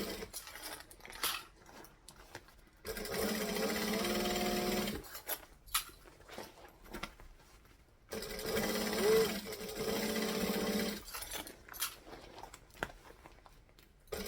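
A sewing machine whirs in two long, steady stitching runs, separated by quieter pauses with small clicks and handling noises.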